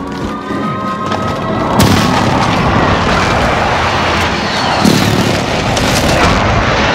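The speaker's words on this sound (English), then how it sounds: "Airstrike, take cover!" Heavy airstrike explosions in Call of Duty Warzone on Rebirth Island, a sustained rumbling barrage with two sharper booms standing out over constant battlefield noise.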